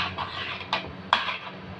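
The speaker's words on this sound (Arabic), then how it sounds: "نقلبهم بقى كده كويس" Potatoes being stirred in a pan with ghee, a soft sizzling bed with two brief scraping knocks of the spoon against the pan.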